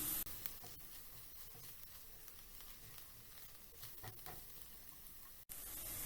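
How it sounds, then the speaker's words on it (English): Chopped onions and garlic paste, seasoned with salt, sizzle and fry in a pan, a steady close crackle with occasional stirring scrapes throughout. "Season with salt and cook till the onions have a light color on them."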